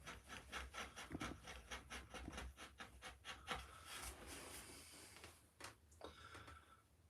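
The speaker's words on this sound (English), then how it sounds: "then you could use these little detail gouges" A small detail gouge, a veiner, carves a leaf in wood. It makes soft, rhythmic scraping and shaving strokes close by, quiet and steady, with no speech.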